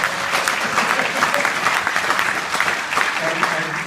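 Audience at a panel discussion gives sustained, even applause, a dense wash of many hands clapping at close range for several seconds without pause.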